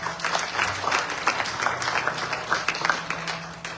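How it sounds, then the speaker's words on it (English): Audience at a youth yajna held at a Hindu temple breaking into applause, a crackling mass of claps at moderate distance that carries on for the whole clip. "I want you to give all of them a big round of applause"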